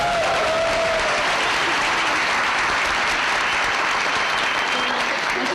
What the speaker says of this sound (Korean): 우리 자신한테 박수 한번 칠까요?